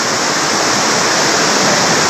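Floodwater released in large volume surging over farmland, a loud, dense, unbroken roar of rushing water close by with no voices.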